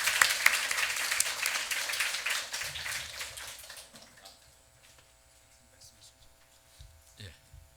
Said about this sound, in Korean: 아주 격한 박수로 우리 강 박사님 한번 환영했으면 좋겠습니다